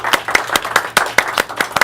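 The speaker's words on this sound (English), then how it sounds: "Give her a round of applause." Sharp, rhythmic hand clapping from a small group, close and fairly loud, steady for a couple of seconds.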